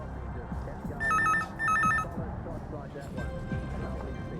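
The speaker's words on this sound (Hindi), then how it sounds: "इस नंबर पे फ़ोन करके परेश के लिए पूछते हैं।" A telephone rings twice in short electronic bursts, fairly loud over a steady background murmur of voices and room noise.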